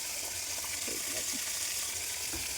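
Food fries in a wok with a dense, continuous close sizzle and a few faint scraping touches, no voices.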